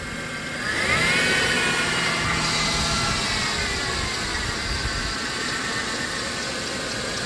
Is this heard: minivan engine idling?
yes